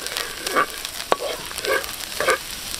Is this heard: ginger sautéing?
yes